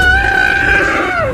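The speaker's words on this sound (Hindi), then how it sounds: "तभी ये हाथी जोर से चिल्लाता" A young elephant calf under attack by a lion screams loudly, one sustained high, tonal cry held for over a second and bending downward at the end.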